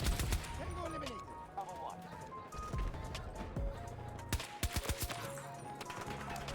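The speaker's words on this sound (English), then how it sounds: "Like this gun kills 3 shots." Gunfire in the video game Battlefield 6 comes as sharp bursts of shots, clustered mostly toward the end, over game ambience with a voice talking.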